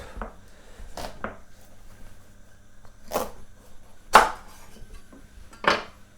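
Sharp knife cutting through a pumpkin on a board, several distinct crunchy chops and thuds spaced irregularly, close and clear, with quiet kitchen background and no talking.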